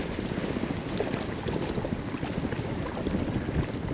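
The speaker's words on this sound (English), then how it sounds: "the wind is right on my back" Steady wind buffets the microphone with a constant low roar and rumble, with choppy lagoon water faintly under it and no talking.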